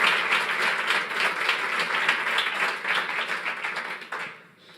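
An audience at a launch event claps together in steady, dense applause that holds for several seconds and then fades out.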